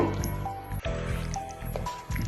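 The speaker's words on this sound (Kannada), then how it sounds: "ನೋಡಿ ಫುಲ್ಲೆಲ್ಲ ನೀಟಾಗಿ ಮಿಕ್ಸ್ ಮಾಡ್ಕೋಬೇಕು" Wet, squishy squelching comes from chicken kebab marinade being mixed by hand, with steady close slapping and dripping sounds and no voice over them.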